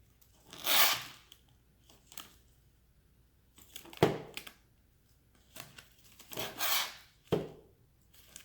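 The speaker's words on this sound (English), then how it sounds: "Use your scissors." Scissors cutting cellophane for Christmas candy ornaments, several separate crinkly rasping snips and crunches spaced apart, close and crisp with quiet pauses between and no talk.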